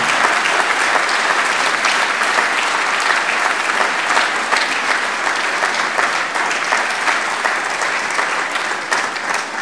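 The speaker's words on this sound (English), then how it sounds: "I'd like you all to give a big round of applause to my team who put this together" Sustained, dense applause from a large audience at a freight service awards night, honouring the organising team; loud and steady throughout with no talk over it.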